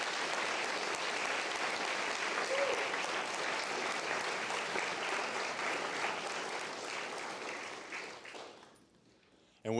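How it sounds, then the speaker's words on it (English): An audience at a fire academy graduation ceremony applauds in a long, full round of clapping that gradually thins and fades toward the end. "So if we can get one more round of applause for our 25-1 and our 25-4-3 academies."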